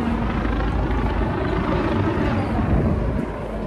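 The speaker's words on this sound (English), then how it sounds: "It's quite noisy because we've got helicopters" A deep, continuous rumbling drone of helicopters over the Brooklyn Bridge in New York fills the air, steady and fairly loud, with faint outdoor wind noise.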